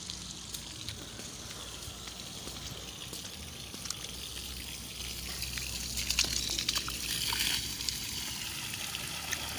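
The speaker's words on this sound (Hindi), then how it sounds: "कितना पानी प्रेशर के साथ" Water gushes under pressure from a borewell fitted with a submersible pump motor, a steady rushing splash that swells louder toward the end, with no talking.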